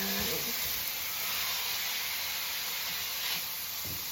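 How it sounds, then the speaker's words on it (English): Home-raised chicken boiling in a pot for pot pie, a steady close hiss of steam and bubbling with a few soft clunks of cookware. "I've got my home-raised chicken boiling away for my pot pie"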